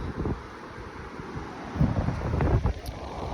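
Gusty wind buffets the microphone on a beach, a rumbling, uneven roar that swells and fades with no talking.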